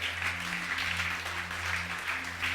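A church congregation applauding and acclaiming Jesus, steady continuous clapping with a hum of voices underneath, moderately distant and even throughout.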